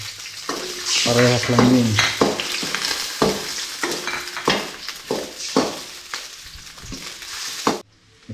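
Garlic sizzles in a frying pan while being stirred, with repeated scraping strokes of a utensil over steady frying crackle, close and fairly loud; a voice briefly speaks partway through.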